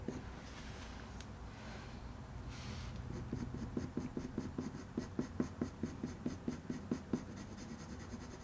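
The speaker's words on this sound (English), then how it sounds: "I'm going to use the black pencil here." A black pencil sketches short fur lines on paper around a drawn cat eye, producing a quiet, close, rhythmic run of scratchy strokes that quicken into a steady series of quick flicks.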